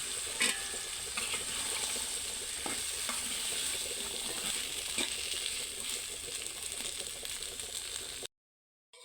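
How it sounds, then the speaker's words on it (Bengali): Chickpeas boiled the day before sizzle and fry with potato in a pan. A steady crackling sizzle runs throughout, broken by occasional scraping stirs, and it ends abruptly in silence. "এই যে কালকে সিদ্ধ করে রেখে দিয়েছিলাম একটা আলু সহকারে, তো এগুলো এখন আমি ভেজে নিব ভালোভাবে"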